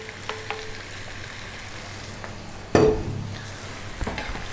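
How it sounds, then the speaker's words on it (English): Shrimp or prawns frying in a pan with chopped garlic, a steady soft sizzle broken by one sharp clatter as they land, followed by a few light pan knocks. "now we're ready to add our shrimps or prawns"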